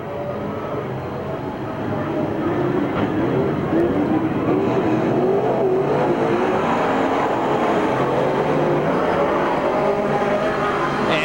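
Race cars roar around the oval at Merced Speedway during a 1989 lap race, a loud, dense, continuous engine drone with cars passing and overlapping, and faint crowd or announcer noise mixed beneath it.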